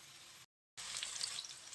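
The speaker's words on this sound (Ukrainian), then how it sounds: "Виложили всі на пательню, все помістилося, все смажимо" Steady hissing sizzle of meatballs frying in a pan, with a brief silent gap before the crackling resumes, close and fairly loud.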